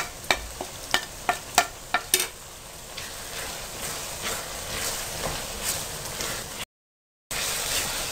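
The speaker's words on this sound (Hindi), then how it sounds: "ये डाल दें और 1 मिनट के लिए फ्राई करें" Whole spices, cumin, cloves, bay leaf and cinnamon pieces, fry in hot oil, giving a steady crackling sizzle with several sharp stirring clinks at the start, briefly cut to silence near the end.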